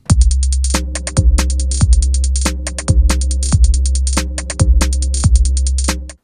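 A sampled organ loop on a Korg Volca Sample with deep bass thumps and sustained chords, washed in reverb, repeating in a steady trap rhythm with sharp clicking accents on each beat.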